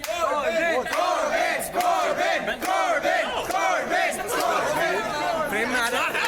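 A crowd at a Mumbai fan meetup chanting and cheering a name, many loud overlapping voices shouting in rhythmic bursts close by, with chatter mixed throughout.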